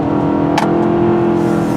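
A Mitsubishi Outlander's four-cylinder engine drones steadily under acceleration from inside the cabin, a loud, even hum with a brief whooshing burst partway through.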